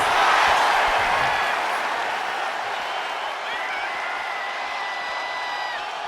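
A wrestling arena crowd in WWE 2K25 sends up a steady, broad roar of cheering that stays loud and sustained throughout, with faint tonal accents riding over the din.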